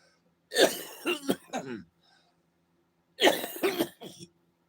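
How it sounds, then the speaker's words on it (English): Two bursts of harsh, wet coughing and throat clearing, bringing up phlegm, close by, separated by a short pause of near silence. "So you hear me cough, cough, cough, cough, cough, and then I can get that loogie out."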